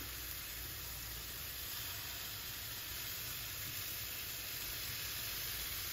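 Food sizzles in a pan over low heat while carbonara with prosciutto and bacon is being prepared, a steady soft hiss and crackle running evenly throughout with no talking.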